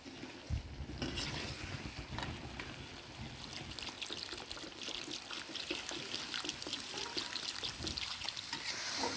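Water poured into a pan of spiced cooking mixture with ground cumin and masala, a continuous splashing trickle over faint sizzling and stirring, close and quiet.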